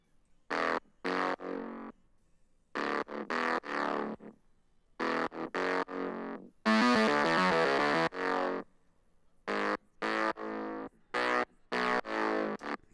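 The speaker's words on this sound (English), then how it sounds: "So here is the synth bass all on its own." A Moog-style synth bass from a Serum preset plays alone in short distorted phrases, with a long sustained note that bends in pitch near the middle.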